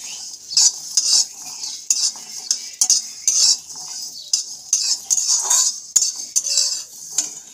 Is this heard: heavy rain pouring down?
no